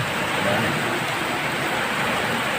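Steady rain hissing continuously, a dense, even wash of noise with no breaks or voices.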